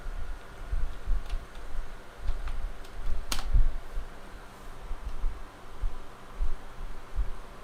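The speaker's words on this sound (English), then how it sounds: "That's definitely the keyboard." Someone types on a computer keyboard throughout a live work session, a steady close run of soft key clatter with one sharper louder click near the middle, with no talking.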